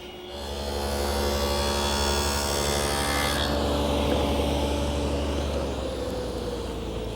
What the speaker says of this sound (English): I use this tenoning jig, which rides in the miter slot of the saw